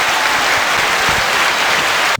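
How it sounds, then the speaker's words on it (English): Steady, dense clapping from a live studio audience fills the whole stretch, loud and continuous with no talk over it, then cuts off abruptly at the end. "thank you to the live crowd. So good at clapping."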